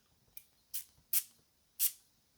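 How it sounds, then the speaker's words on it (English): Perfume atomizer on a bottle of Maison Alhambra Glacier Pour Homme, fired in four short, crisp hissing sprays, the last three stronger, close and alone in a quiet room. "let's see if the atomizer's any good"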